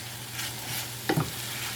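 Steak and onions frying in a pan give a steady sizzle, with a brief clack of a utensil as they are stirred together; no talking.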